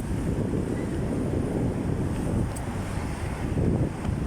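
Steady outdoor wind buffeting the microphone, a constant loud rush with slight gusts, no voices.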